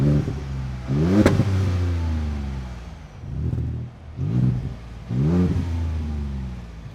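A 2015-2017 Ford F150 pickup with a 2.7L EcoBoost engine and a Magnaflow MF Series cat-back exhaust revs in several short bursts, a deep droning exhaust note rising and falling close by.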